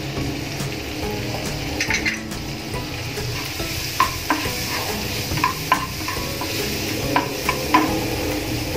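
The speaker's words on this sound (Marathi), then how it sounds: "हा आपण परतून घेऊ" Finely chopped onion sautéing in a pan over low heat for spinach soup, with a steady soft sizzle and repeated scraping stirs that knock sharply against the pan.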